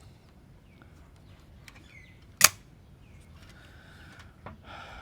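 Shutter of a Fed-4 Russian rangefinder film camera firing once, a single sharp close click standing out against a quiet room.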